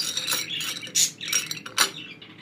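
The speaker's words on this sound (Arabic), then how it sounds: "هبتدي ارشه بالبشاشه وهقلبه كله كده عشان ياخد من الزيت" Oiled fenkoush popcorn tossed around in a bowl, a series of close, dry rustling, crunching bursts in an uneven rhythm.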